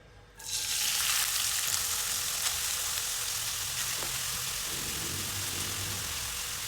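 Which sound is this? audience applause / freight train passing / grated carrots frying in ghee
grated carrots frying in ghee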